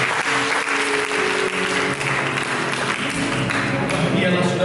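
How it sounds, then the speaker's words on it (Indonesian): Congregation applauding during a church service, steady dense clapping throughout, loud and close, with musical instruments faintly continuing underneath. "Mari kita berikan tepuk tangan bagi"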